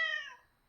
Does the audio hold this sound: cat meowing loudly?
yes